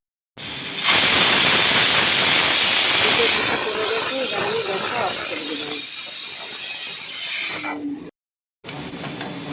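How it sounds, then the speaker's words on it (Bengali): A pressure cooker on a gas stove lets off a loud, sustained steam hiss and whistle for several seconds, which then fades before a brief silence and a faint restart. "এবার সিটির অপেক্ষায় দাঁড়িয়ে আছি দুটো সিটি দিয়ে দিলে আমি অফ করে দেবো গ্যাসটা"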